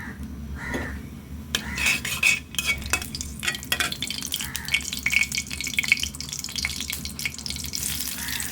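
Oil sizzles steadily in a pan after bay leaves are added, while a beef head and brain curry is being prepared, with scraping stirring strokes and clinks close by throughout, no voices.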